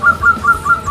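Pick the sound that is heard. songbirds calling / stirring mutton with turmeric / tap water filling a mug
songbirds calling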